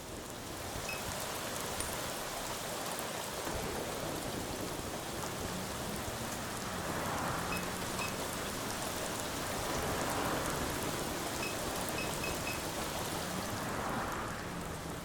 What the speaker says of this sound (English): The downpour finds its way into the drainage canal, its water level slowly rising.